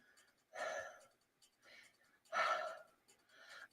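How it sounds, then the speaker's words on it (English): Heavy, hard breathing close to the microphone, with two strong loud breaths and softer gasping ones between them in an uneven rhythm, and nothing else audible. "Sorry, y'all, I'm breathing hard as heck."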